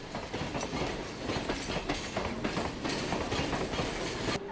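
A Mumbai local train rolls past a station platform with continuous rhythmic wheel clatter over rail joints and a steady rumble, heard loud and close throughout.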